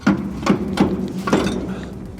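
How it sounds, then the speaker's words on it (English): A hammer strikes a bolt being fitted onto an old narrowboat's propeller shaft, four sharp knocks at uneven intervals, close and fairly loud against a quiet background. "So we put the bolt onto here with a hammer so that we don't damage the threads"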